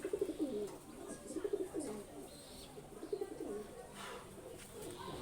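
Domestic high flying pigeons cooing close by in repeated bubbling bursts, several throaty coos in a row over a low steady background hum.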